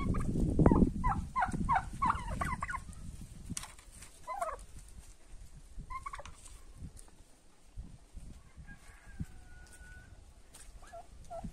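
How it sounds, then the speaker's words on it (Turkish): Several turkeys gobble in a burst of loud, rapid, warbling calls near the start, followed by scattered softer gobbles and clucks against quiet outdoor background noise. "Bunlar da hindileri"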